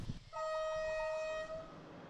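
A Chinese-built diesel locomotive on the Mombasa–Nairobi railway in Kenya sounds its horn after a brief low thump: one sustained, fairly clear tone of just over a second that then fades into quiet rumble.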